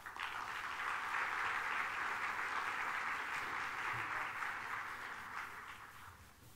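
Sustained applause from a conference audience welcoming a presidential address, a dense steady clapping that holds for several seconds and slowly thins toward the end.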